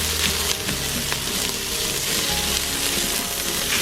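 Carrots sautéing in an Instant Pot while being stirred, a steady close sizzle with scraping and stirring movements throughout, with no talking.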